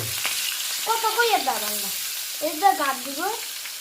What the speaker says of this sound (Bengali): মাছ ভাজি হচ্ছে, মাছ ভাজি হচ্ছে